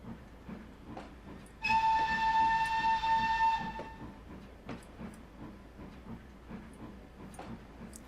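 The Flying Scotsman steam locomotive in the Trainz game rolls into a station, with chuffing and rail clatter throughout and a loud, steady whistle blast of about two seconds near the start, then quieter running and hissing.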